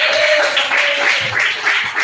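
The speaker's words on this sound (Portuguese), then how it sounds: "Mais palmas para Jesus." Church congregation applauding during a Wednesday worship service, a steady wash of dense clapping with a faint sustained tone running through the first part.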